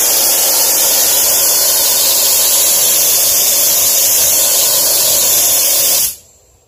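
A compressor-fed paint sprayer applies Aspire mineral paint to a wooden table at about 60 to 90 PSI, producing a loud, steady, continuous hiss that cuts off abruptly near the end.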